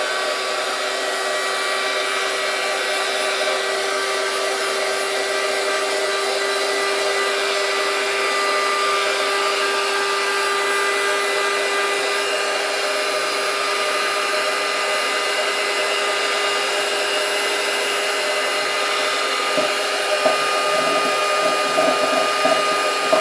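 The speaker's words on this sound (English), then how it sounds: "So we'll just give it a blast with the heat gun." A heat gun blows steadily on a decoupaged tin can, giving a loud, constant, close whooshing roar that keeps going without a break. Near the end there is a faint knock of handling.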